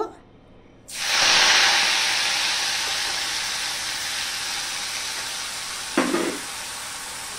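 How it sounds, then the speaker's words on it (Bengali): Wet neem leaves hit hot salted oil with a sudden loud sizzle, a steady hiss that slowly eases, and a short utensil clatter near the end. "এবার আমি নিম পাতাগুলো ভেজে নেব।"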